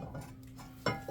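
A metal brake rotor on a Ford Escape's rear brakes clanks softly into place, one brief metallic knock near the mic followed by a smaller clink.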